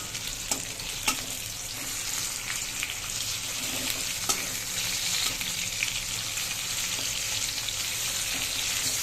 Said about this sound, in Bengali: তো দেখো আমার এখানে প্রায় টমেটোটা ভাজা ভাজা হয়ে গেছে